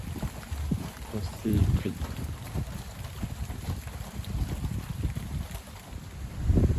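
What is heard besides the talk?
strong west-northwest wind during a squall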